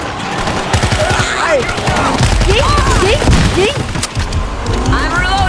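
Rapid gunfire and machine-gun bursts in the zombie shooter World War Z Aftermath, loud and continuous with booms and clatter, under chaotic game effects and occasional talk.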